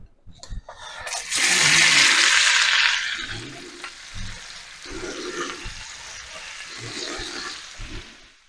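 Water gushes from a kitchen tap as a knife is washed, a loud burst of running water that fades into quieter rinsing and clatter.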